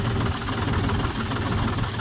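A tractor engine running at low throttle while spraying in a field, a steady low rumbling drone with a rhythmic knocking pulse, close and constant for the short span.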